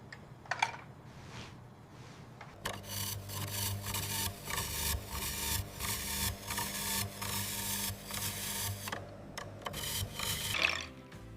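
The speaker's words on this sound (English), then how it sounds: "Listen to the suction lock." A curly fry spiral cutter's suction lock engages on a kitchen counter: a close, continuous run of rhythmic rubbing and ratcheting mechanical strokes after a brief quiet start, with no talking.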